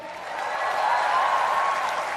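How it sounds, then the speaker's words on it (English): An audience at a comedy roast claps steadily, giving a dense, even wash of applause that holds for a couple of seconds. No voices rise above the clapping. "a huge round of applause to everyone, especially All India Bakchod."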